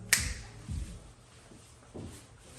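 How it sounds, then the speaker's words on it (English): A single sharp finger snap rings out close and crisp in a quiet podcast studio, followed by a few soft low thumps and shuffles. "when I snap my fingers again"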